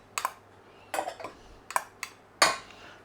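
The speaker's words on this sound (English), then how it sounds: "About a teaspoon of oil in every one of those." Oil is dropped by teaspoon into a Yorkshire pudding tin: a handful of light, close metallic clinks and taps of spoon on tin, spaced irregularly over quiet.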